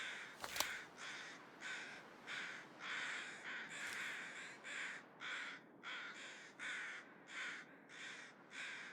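Crows caw repeatedly in the video game Stalker, a steady run of harsh calls at an even pace, clear but moderately distant, with a brief sharp click near the start and no talk.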